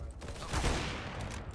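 Burst of rapid gunfire from a Counter-Strike match, a dense fusillade of overlapping shots swelling in the middle and trailing into a steady background clatter, with no talk over it.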